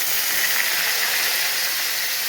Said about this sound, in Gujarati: મીઠા લીમડાના પાન નાખશું